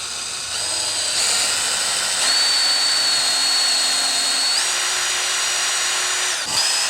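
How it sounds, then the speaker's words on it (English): A handheld power drill pre-drills holes in wooden bench legs for 3-inch screws, a loud, close, sustained high whine that shifts pitch partway through and stops abruptly near the end. "So he's just going to pre-drill these."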